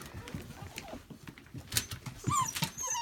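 A puppy whimpers in short, high yips and whines inside a cleaned kennel room where a litter of Pyredoodles was raised, the cries coming in quick bursts over low rustling and handling noise.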